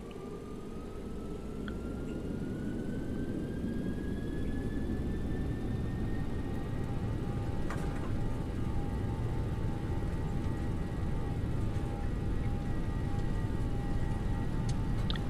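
Boeing 737NG jet engines on the takeoff roll in a flight simulator, a steady loud broadband roar with a thin tone rising slowly in pitch, constant and unbroken with faint clicks, no talking.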